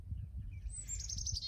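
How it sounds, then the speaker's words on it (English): A bird sings from a backyard tree, with faint, thin high chirps drifting over a steady low outdoor rumble. "right now there's a bird living in my tree. You probably can hear it."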